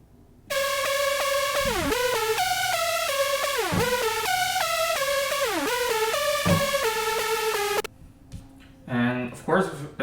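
Bright EDM synth lead playing a choppy melodic riff, each phrase ending in a quick pitch bend sweeping downward, repeated several times for about seven seconds before stopping, followed by a few scattered softer sounds.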